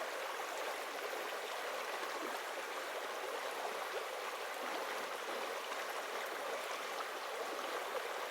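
A mountain stream at the middle fork of the Kings River rushes steadily at a campsite, a soft, continuous wash of flowing water, fairly close and with no voices.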